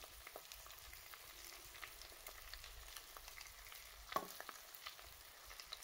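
Previously fried fish heats in a pan of frying oil, giving a soft, steady low sizzle with faint crackles and one slightly louder pop, quiet and alone without talk.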